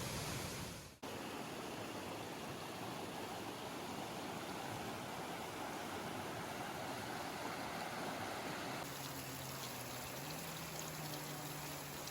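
Steady, dense rush of falling water, loud and constant, from a waterfall heard up close at Silver Falls State Park, Oregon, with a brief dip near the start and no voices.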